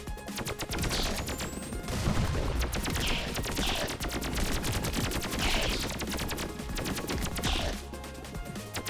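Rapid, constant gunfire in the virus roguelike game Pathogenic rattles on in dense bursts for the whole stretch, loud and close, with no voices.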